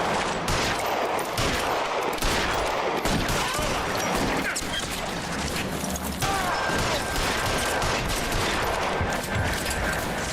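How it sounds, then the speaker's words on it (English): Two shooters trade gunfire in the video game L.A. Noire, a dense, loud, continuous barrage of overlapping shots and rapid bursts filling the whole stretch without a break. "Yeah, 2 people shooting."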